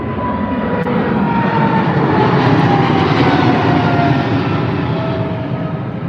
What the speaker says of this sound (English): Incredible aircraft, incredible power.